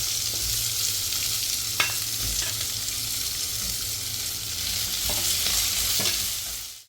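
Chopped onion sizzles and crackles in a hot pan with crushed ginger and garlic, a steady loud frying hiss with occasional stirring scrapes throughout.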